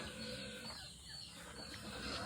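Chickens cluck faintly behind a family home, soft fowl calls over a steady outdoor hiss, with no talking.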